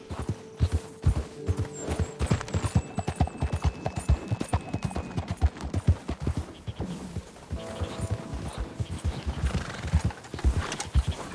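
A ridden horse walks along with steady, close clip-clopping hooves in an even rhythm, with a brief neigh partway through and light rustling between steps.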